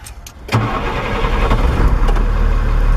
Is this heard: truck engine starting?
yes